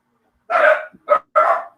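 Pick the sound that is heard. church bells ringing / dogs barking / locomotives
dogs barking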